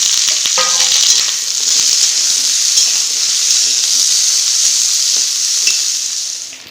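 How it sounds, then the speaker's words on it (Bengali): Cut carrot and mixed vegetables fry together in a hot pan for a vegetable paneer dish, giving a loud, steady sizzle with scattered stirring clicks and no talking. "এবারে কেটে রাখা গাজরটা দিয়ে দিব যে সব একসঙ্গে ভেজে নেবে"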